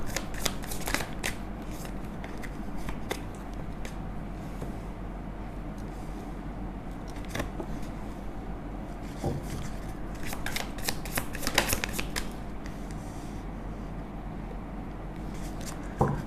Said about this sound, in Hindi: आपको लाने के लिए ही तो शफल कर रहे हैं